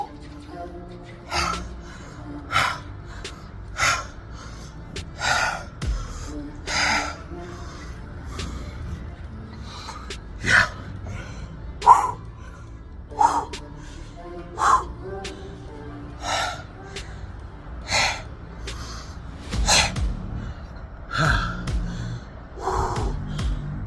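Heavy breathing after climbing six flights of stairs carrying 16 lbs: rhythmic loud gasps and panting breaths repeating every second or two, close and alone, over low background rumble.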